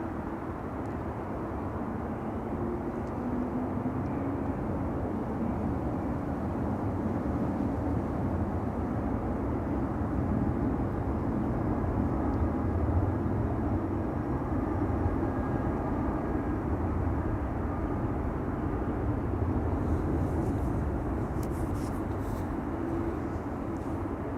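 At Schiphol Airport a Singapore Airlines airliner for Singapore produces a long, even, distant engine rumble that holds steady and slightly swells, with no voices over it.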